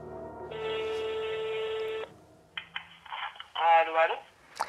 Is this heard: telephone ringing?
yes